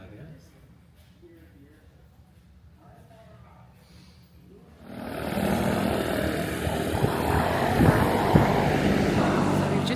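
A seaplane's propeller engine drones at a seaplane base in Florida, faint at first and then swelling into a loud, steady roar halfway through while people talk nearby.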